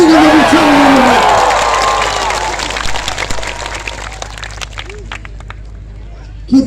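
Large outdoor crowd at a revival rally in Sumba cheering and clapping, with loud shouting voices early that fade into scattered clapping and murmur, ending with a brief burst of voice.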